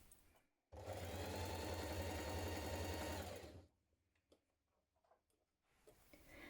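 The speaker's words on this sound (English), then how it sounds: "Pin it in place with right sides facing and then we're going to stitch it in position" A sewing machine stitches shirt pieces pinned with right sides together in one steady, loud, close run of about three seconds, then stops, leaving light clicks and fabric handling.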